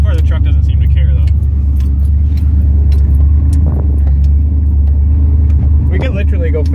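A first-generation truck wading through a lake, its engine a heavy continuous low rumble with water churning around it, loud and close, while people talk over it throughout.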